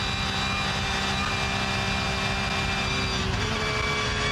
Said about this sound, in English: Let's just listen to the engine through Kesselchen and Klostertal,